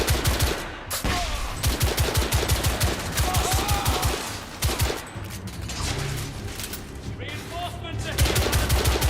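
Rapid gunfire from a battle in the video game The Order: 1886, with dense bursts of shots and volleys under shouted voices and music, loud and close throughout.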